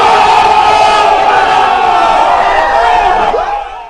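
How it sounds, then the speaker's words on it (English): A crowd lets out a sustained, loud collective "ooh" sound effect, a dense wash of voices holding steady for a few seconds before tapering off at the end. "Can I get a ooh sound effect?"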